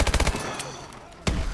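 A quick burst of rapid gunshots opens, then a lull, then one more sharp shot, from the zombies mode of Call of Duty Advanced Warfare, fairly loud and near.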